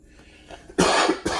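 A single sharp, loud cough close to the microphone, with a short second burst just after, following a quiet moment.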